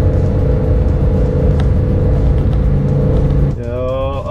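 A Lamborghini engine hums and rumbles steadily up close, then its note shifts as it revs near the end, with excited voices over it.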